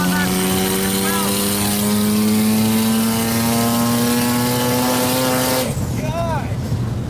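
Rotary-engine race car holding a loud, steady, buzzing high rev that climbs slowly before cutting off abruptly near the end, close and dominant with voices underneath.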